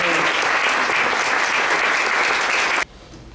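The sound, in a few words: audience applause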